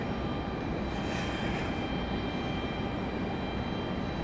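A C-17 military transport aircraft roars steadily at Raleigh-Durham International Airport, a loud, unbroken broadband jet rumble with a high engine whine that holds close and constant throughout.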